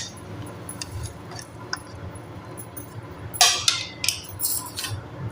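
Spoon clinking against a bowl while mixing cumin, crushed dried coriander and spices for a radish paratha filling, faint at first, then a cluster of sharp metallic taps near the end, close and unaccompanied by speech.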